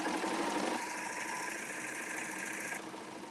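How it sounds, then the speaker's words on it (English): A three-thread serger sewing a lettuce edge diagonally across the bias of a single fabric layer runs as a steady, close mechanical whir. The motor note shifts slightly after the first second and continues evenly. "you sew across the bias, you can get a really fun lettuce edge"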